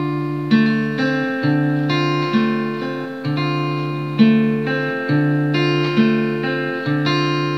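Acoustic guitar fingerpicking a pattern across strings one to four, a steady rolling arpeggio of plucked notes in an even repeating rhythm, clear and close with no voice.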